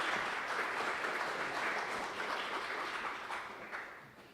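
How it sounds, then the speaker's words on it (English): Audience applause after a speaker is introduced at a leadership talk, a dense steady wash of many hands clapping that holds for several seconds before tapering off, with no talking. "So round of applause"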